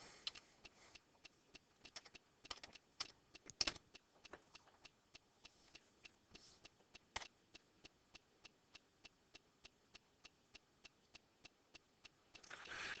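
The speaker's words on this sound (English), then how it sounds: "we'll go back to dictionary.com and we'll type in mollify" Keys are tapped on a computer keyboard, typing out a single word at a dictionary website as a steady run of faint, crisp, evenly spaced clicks with a few louder taps and no voice.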